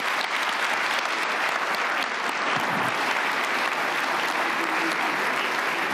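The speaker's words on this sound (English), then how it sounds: "let's give a huge round of applause to our panel" Audience applause for a panel at the Munich Security Conference 2025, a steady, dense wash of many hands clapping in a large hall, sustained and even throughout.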